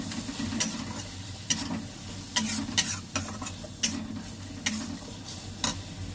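Turmeric, coriander and cumin powders sauté in a pan for a sour-spicy boal fish curry, with a steady sizzle broken by sharp, regular spatula clicks and scrapes.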